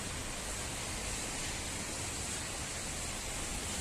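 Rain pours hard in Benidorm on St Patrick's Day, a steady, unbroken wash of hissing noise with no voices.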